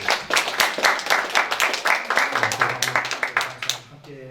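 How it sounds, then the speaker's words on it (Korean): A church congregation gives welcoming applause for two guests, one of them a pastor, with lively, dense clapping that rises and holds steady before a voice begins speaking as it trails off. "우리 두 분을 위해서 우리 환영의 마음 박수로"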